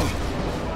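A short burst of dense, loud gunfire from a World War II shooter with Nazis and Communists, a continuous wash of blasts with no pauses.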